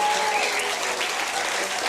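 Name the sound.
audience applause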